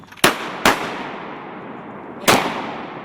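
Shotgun shots fired at ducks from a boat on the water: three sharp, loud blasts, two in quick succession and a third after a pause, each followed by a short fading echo, with no talking.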